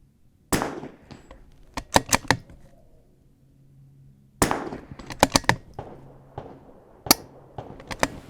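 Rifle shots at an outdoor shooting range during a .22 rimfire precision course, fired in two quick strings of sharp, loud cracks with short pauses between them, then a few spaced single shots.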